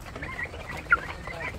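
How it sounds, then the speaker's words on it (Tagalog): A young chicken, about 45 days old, gives a single faint cluck in a quiet farmyard, brief and alone against low background hiss. "Yung manok."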